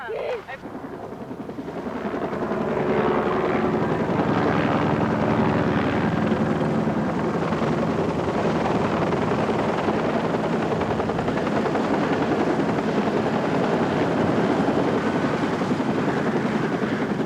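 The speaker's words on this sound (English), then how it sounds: "The Flight for Life helicopter arrived from Denver" A Flight for Life rescue helicopter roars steadily nearby, its rotor wash building over the first seconds and then holding loud and constant throughout.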